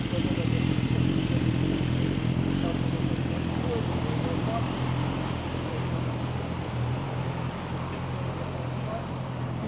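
A motorcycle engine rumbles steadily on a Vancouver city street, loud and close throughout, with a voice talking over it.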